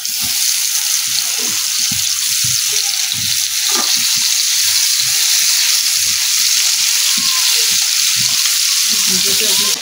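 Vegetables fry in oil in a kadai on the stove, giving a loud, continuous close-up sizzle with soft scraping and stirring knocks underneath, and no one speaks.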